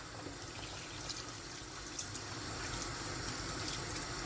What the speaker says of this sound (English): I can now add water